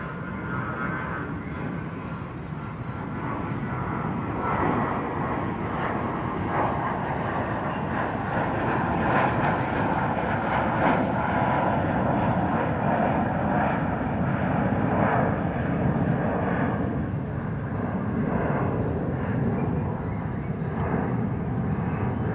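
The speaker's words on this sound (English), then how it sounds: "There's a lot of airplanes here." Airplanes flying overhead near Bromma Airport produce a continuous, loud, broadband engine roar that holds steady through the whole stretch, with no talk.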